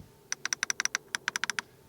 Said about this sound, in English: We have a clicking, a nice clicking sound here for the temperature